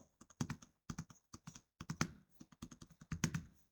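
Quick clicking keystrokes on a computer keyboard come in short bursts with small pauses, close and fairly quiet, with no other sound around them.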